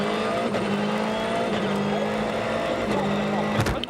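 A rally car's engine drones steadily at close range as it brakes hard into a junction on a stage. Gear changes bump through the note, and a short burst of tire noise comes near the end.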